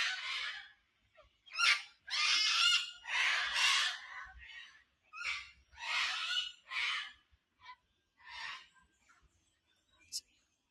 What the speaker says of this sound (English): let's listen to these noisy cockatoos